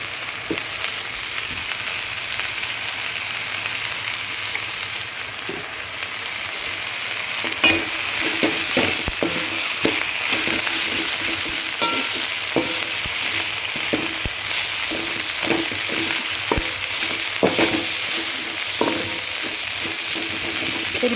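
Keerai greens stir-fried in a little oil in a pan for a poriyal, a steady close sizzle broken by repeated sharp scrapes and clatters of the spatula tossing the leaves.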